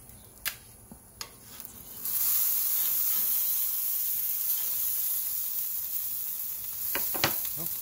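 A frozen roast sizzles steadily in a hot pan just after being flipped, a loud continuous hiss of frying fat with a few sharp clicks and pops at the start and near the end, and no talking.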